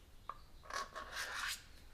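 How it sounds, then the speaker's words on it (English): The blunt back of an X-Acto knife blade scrapes along a seam on a model rocket nose cone, a faint tick followed by soft, close rasping strokes. "Or you can take the back side of an X-Acto knife blade, not the sharp side,"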